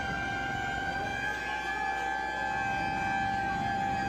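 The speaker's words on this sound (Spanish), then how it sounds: "Se escuchan las sirenas" Sirens sound continuously during a magnitude 6.0 earthquake in Colombia, a steady high wail holding over a constant noisy background, with no talk.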